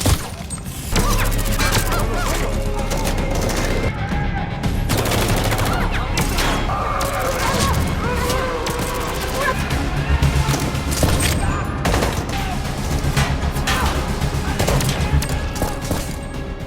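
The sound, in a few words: gunfight in an action movie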